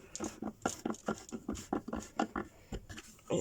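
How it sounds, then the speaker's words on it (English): A clothes dryer clunks faintly in the background, a quick, uneven series of soft thumps and knocks as the load tumbles, repeating steadily throughout. "If you can hear clunking noise in the background, it's the dryer."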